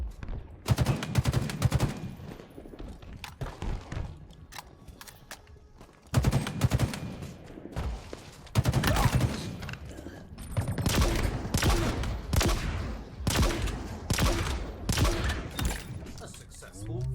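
Gunfire volley in a video game: repeated loud bursts of shots and explosive cracks in clusters over a steady background, fairly close and dense, with no speech.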